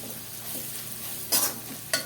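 Soft sizzling from a frying pan as curry masala and spices are stirred in, with scraping stirs and two brief louder scrapes near the end.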